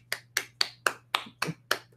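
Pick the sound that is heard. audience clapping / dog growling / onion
audience clapping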